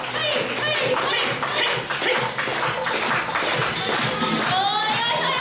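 A live audience at a Kumamon bear mascot stage show claps and cheers steadily for the mascot's entrance, a dense, continuous wash of close applause with voices calling out over it throughout.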